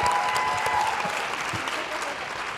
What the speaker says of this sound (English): One round of applause for the judges.